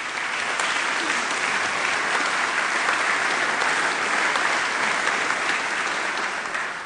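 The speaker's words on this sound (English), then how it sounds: "So let's have a big round of applause for everything you've achieved." Sustained applause from a large audience fills a graduation ceremony hall, a steady dense wash of clapping that holds at an even level throughout without any voices over it.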